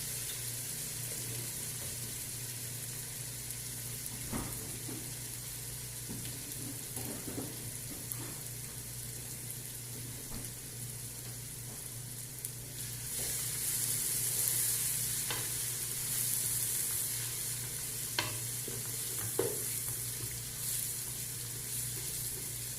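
Garlic and ginger paste fries in a pan, giving a steady, close sizzle broken by the scrape and clatter of stirring.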